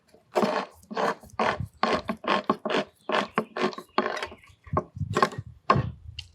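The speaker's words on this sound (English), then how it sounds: "I'm just going to simply open up this can." A can of fire-roasted diced tomatoes with garlic is cranked open with a can opener, giving a run of close, rhythmic ratcheting clicks and grinding bursts that continue steadily, with no talking.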